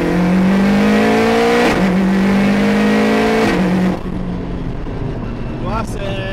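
A car engine revving hard and climbing in pitch through gear changes, with abrupt drops where power cuts out between shifts, loud and close from inside the cabin, with a voice speaking over it.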